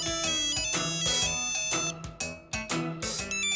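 A phone ringtone plays a bright, repeating electronic melody in short bursts with brief gaps between phrases, loud and close, with no talking over it.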